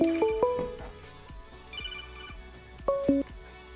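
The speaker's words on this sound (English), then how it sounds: "I have to take this phone call real quick." A phone rings with an incoming call, playing a melodic electronic ringtone of short tonal bursts in two clear phrases, close and fairly loud, with a quiet gap between them.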